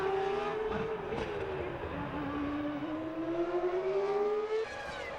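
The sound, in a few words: 1998 Formula 1 car racing at the Canadian Grand Prix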